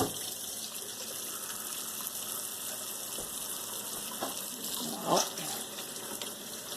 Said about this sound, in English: we're going to rinse them in hot water so they stay warm